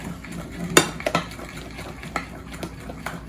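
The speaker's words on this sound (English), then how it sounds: "I'm gonna take 1 full scoop of it and put in the egg and stir it really, really fast" Egg being stirred quickly into melted chocolate in a bowl: close, soft scraping and a few sharp utensil clinks against the bowl, irregular and fairly quiet, with no voices.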